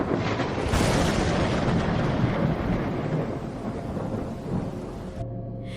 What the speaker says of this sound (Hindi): आधी रात का समय, आसमान पर बादल गरज रहे थे